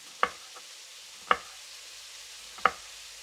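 Frozen garlic cloves sliced with a knife on a cutting board, three sharp, well-spaced chops standing out clearly over a quiet background, with a faint softer tap between the first two.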